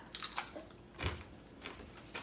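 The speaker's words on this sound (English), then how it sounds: "do you hear how crunchy these are?" Close, crisp crunching bites of homemade dried apple or zucchini chips, a few sharp crackly chews spaced unevenly, with no talking.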